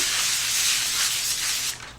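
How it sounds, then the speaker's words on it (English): Cooking spray misted onto a sheet of tin foil for a Doritos ground beef casserole: one steady close hiss lasting almost two seconds, then cutting off, with no talk. "I'm going to lightly spray it with some cooking spray."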